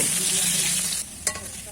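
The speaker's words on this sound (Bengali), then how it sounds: "নেড়ে চেড়ে আলুর টুকরোগুলো লাল লাল করে ভেজে নেব" Potato pieces with salt and turmeric fry in hot oil with a steady, loud sizzle. Halfway through the hiss drops and a spoon clatters sharply in the pan as the pieces are stirred.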